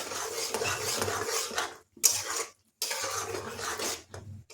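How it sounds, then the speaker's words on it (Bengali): Cashew spice paste stirred in a kadai, scraping and clinking of a spoon against the metal pan in bursts, with two brief pauses, close and fairly loud. "এই সময় মশলাটা খুব ভালোভাবে কষতে হবে আর সমানে নেড়ে যেতে হবে"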